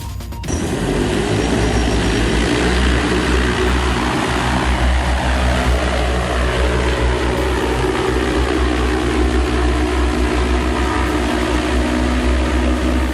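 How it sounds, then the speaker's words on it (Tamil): A drone-based flying vehicle built by a young inventor roars with a loud, steady whir of propellers and engine that holds constant for the whole stretch, with no voices. "நம் நாட்டு இளைஞர் ஒருவரால் உருவாக்கப்பட்டுள்ள பறக்கும் வாகனம்தான் இது"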